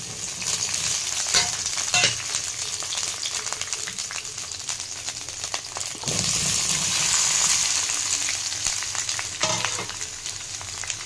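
Cumin seeds and green chilies fry in hot oil with a busy crackling sizzle, swelling in sharp bursts as they are stirred, with occasional light clinks against the pan.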